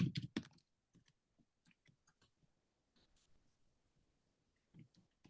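Keys clack on a computer keyboard in scattered bursts, a few sharp loud taps at the start and then softer, irregular clicks, fairly close in a quiet room.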